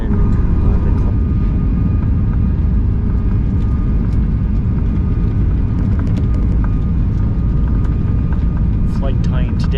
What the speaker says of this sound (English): We're currently still taxiing on the way over to Boston.